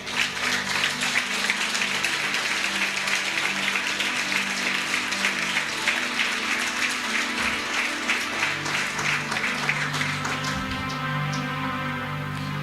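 A church congregation bursts into sustained, dense applause that holds steady for several seconds, with held musical tones ringing beneath the clapping.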